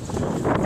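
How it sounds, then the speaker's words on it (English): Strong wind buffeting a microphone outdoors, a brief loud rumbling rush with no talking over it. "It's so windy! I'm gonna blow away!"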